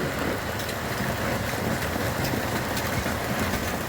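Golf-ball-sized hail pounds down in Esk, Australia, a loud, dense, continuous roar of hard impacts on surfaces close by, steady throughout with no voices.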